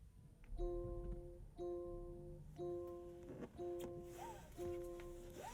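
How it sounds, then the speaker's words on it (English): Startup chime of a 2021 Land Rover Defender 110 with a 48-volt mild hybrid powertrain: five clear, identical electronic tones sound about once a second, each ringing briefly and then cut off, fairly quiet in a calm cabin with no talking. "Super mild startup apart from that loud chime thanks to the 48-volt mild hybrid system with this powertrain package"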